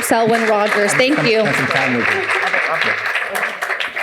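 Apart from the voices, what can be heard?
audience applause for the panelists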